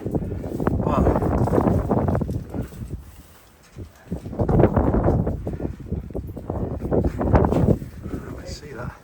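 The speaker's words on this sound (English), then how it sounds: "Just a little bit windy." Strong gusts of wind buffet the microphone on a bald mountain summit along the Appalachian Trail, roaring in loud waves with brief lulls between.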